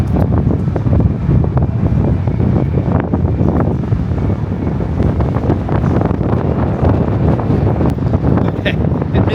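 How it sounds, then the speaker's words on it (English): Steady, loud wind roars across an open observation deck high on the Tower of the Americas above San Antonio, a broad continuous rush buffeting the microphone with gusty thumps throughout. "Okay, admittedly, it's pretty windy up here."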